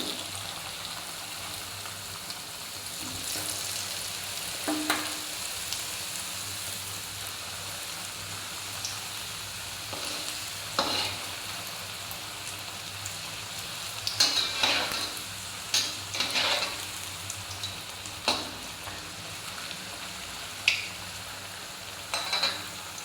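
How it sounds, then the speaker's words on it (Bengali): Chicken patties frying in white oil over lowered gas heat, a steady close sizzle with bubbling crackle and occasional louder pops and spits, no voices. "এরপর আমি এগুলো তেলের মধ্যে দিয়ে দিলাম। এটা কিন্তু সাদা তেল"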